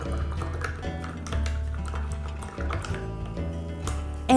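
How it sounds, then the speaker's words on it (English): A paintbrush is rinsed in a water container, giving soft sloshing and clinking against the jar, close and fairly quiet with no talk. "So rinse out your brush."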